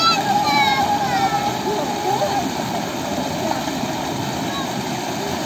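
Steady rushing, splashing water from jacuzzi jets close by, a continuous frothy churn with faint whistling tones over it.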